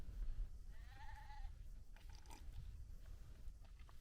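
A single short bleat rises from quiet outdoor ambience, a faint animal call in the distance amid low wind rumble.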